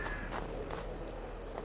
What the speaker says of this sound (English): That's what it sounds like when you're crunching through the snow.